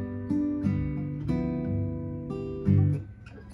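An acoustic guitar chord played slowly, with thumb-picked bass strings alternating with thumb down-brushes across the top strings, giving several separate strums in a relaxed rhythm with no talk.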